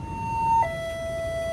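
A railway level crossing warning siren at a rail crossing sounds a steady electronic tone that drops to a slightly lower pitch midway, loud and alone over faint background rumble.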